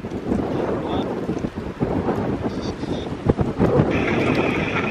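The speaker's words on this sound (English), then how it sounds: "Boy, that wind is whipping." Gusty wind buffets a microphone at a hidden cemetery in the woods, a loud continuous rumble with brief faint tones and a voice speaking softly under it.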